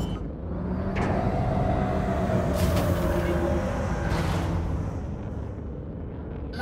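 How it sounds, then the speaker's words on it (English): Spaceship landing gear deploying in the Elite Dangerous video game: a loud, steady engine-like rumble with mechanical whirring and a couple of brighter surges, sustained throughout with no talking. "EDI engage landing gear."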